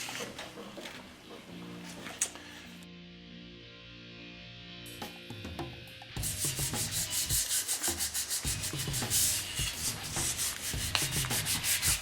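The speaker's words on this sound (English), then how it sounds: "Normally, of course, what I would do is I would sand the entire stock to that finish." A wooden gunstock is sanded by hand, starting with softer, irregular rubbing and then settling into a brisk, rhythmic run of close, loud abrasive strokes.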